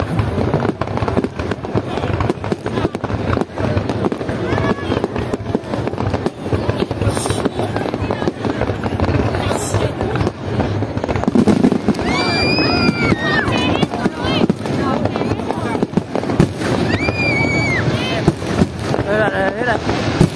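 Fireworks burst continuously in the sky during a Lunar New Year celebration, a dense run of booms and crackles with whistling rockets rising through it, loud and close, while people talk underneath.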